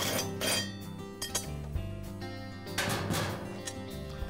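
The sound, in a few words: lawn mower blade being removed, metal clinking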